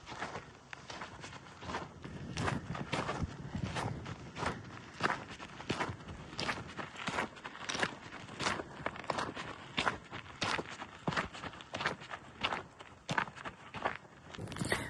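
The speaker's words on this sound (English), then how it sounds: "I would just kind of walk along quietly so you can hear my footsteps" Steady footfalls crunch along a desert trail on the Jornada del Muerto, regular paced steps close to the listener, each one a sharp dry scuff over a faint outdoor background.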